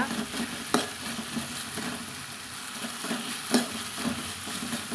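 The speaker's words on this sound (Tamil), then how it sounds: "இப்போது வெண்டைக்காய் வந்து நமக்கு வதங்கிட்டு இருக்குங்க" Red okra sautés in oil in a pan for vendakkai kuzhambu, giving a steady close sizzle with occasional scraping stirs and light knocks of the spatula against the pan.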